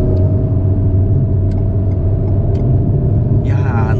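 An Alpine A110 sports car climbs uphill under acceleration, its turbocharged engine a loud, close, steady rumble with a brief higher whine near the end.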